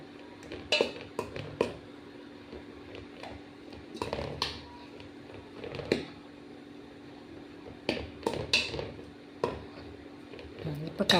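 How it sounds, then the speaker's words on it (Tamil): A spoon scrapes and clinks in a bowl while roasted ground urad dal, cardamom, cashew and almond powder are mixed, giving irregular soft taps and scrapes spaced a second or two apart over a quiet background with occasional talk. "இதை வந்து நல்லா கலந்துக்கலாம். எல்லா பக்கம் எல்லாம் படும்படியாக கலந்துட்டு"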